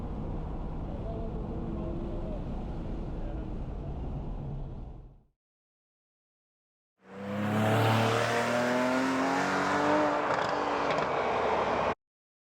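A Porsche 911 of the 997 generation with a PDK gearbox accelerates hard, a loud, close engine roar rising in pitch, cutting off into brief silence, then returning with another strong climbing run.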